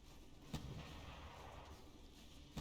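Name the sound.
dual-purpose railguns firing at missiles in From the Depths video game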